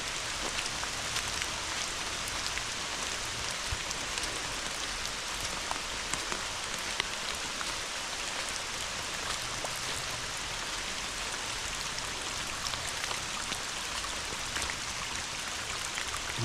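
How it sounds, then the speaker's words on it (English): Rainwater runs and patters steadily across the ground on a rain-soaked walk, a constant even hiss of falling and flowing water with scattered drops ticking close by and no voices. "Water runs down through here."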